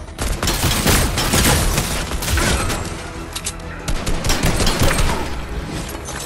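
Pulse rifle gunfire in the video game Fortnite, loud rapid bursts of automatic shots close up, firing in dense volleys with brief pauses and no talk over it.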